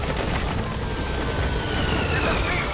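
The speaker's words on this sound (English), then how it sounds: "So we'll call the helicopter back to our landing zone." Helicopter arriving at a landing zone in the stealth action video game Metal Gear Solid V: The Phantom Pain, a loud continuous rotor roar that stays steady throughout with no speech.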